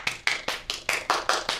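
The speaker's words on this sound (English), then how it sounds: "Let me get some claps for that." A single person claps eight times in a steady, even rhythm, each clap sharp and close with no talking in between.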